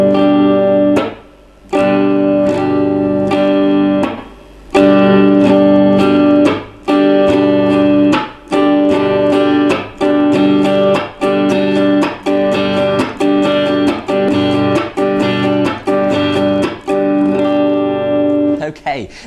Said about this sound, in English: So when we put that into the strumming pattern, we're going to go down, up, chop, and then up again.